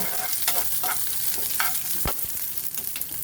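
Onion fries in a pan for dondakaya pachadi, a close crackling sizzle broken by repeated spatula scrapes and one sharp knock against the pan.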